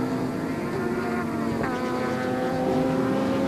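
Two 6-litre V8 race cars at Bay Park, an alloy V8 Alfetta and a 350 Chev powered Commodore, roar together in a loud, steady engine drone with a slight pitch shift midway.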